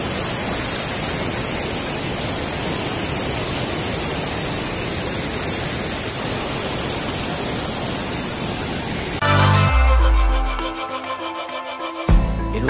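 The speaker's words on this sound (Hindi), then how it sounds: "यहाँ ना बहुत ज़्यादा पानी का आवाज़ है।" Loud, steady rushing of river water by a waterfall at Bhutan Chowki, a dense unbroken roar filling the clip until music cuts in near the end.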